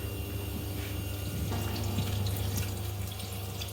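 Water pours into a pot of Kochi-style prawn curry, a continuous splashing flow with a low background rumble and no talk.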